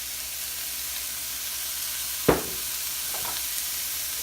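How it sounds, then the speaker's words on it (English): A pan of vegetables and chicken frying in oil gives a steady sizzle throughout, broken by a sharp scraping stir and a couple of softer clinks afterward. "Give this a nice stir. I'll add a tiny bit of oil."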